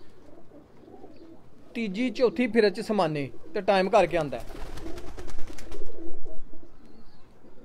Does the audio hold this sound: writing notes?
no